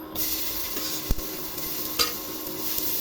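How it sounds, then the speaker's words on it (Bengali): Chopped onions frying in hot oil with cumin seeds, a low steady sizzle with occasional soft clinks and scrapes of a spoon stirring the pan, for a tilapia curry with potato and cauliflower. "পেঁয়াজগুলো ভেজে নিব।"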